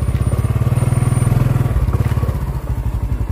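A motorcycle engine idles close by at a farm-area hollow-block business, a steady rapid thumping pulse that shifts slightly in pitch partway through, with no talk over it.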